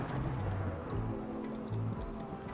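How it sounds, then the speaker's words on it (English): Steady rain falls in a video game, a dense, even hiss of drops that carries on without pause through the whole stretch. "It's starting to rain."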